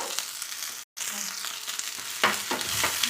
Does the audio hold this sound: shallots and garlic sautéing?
yes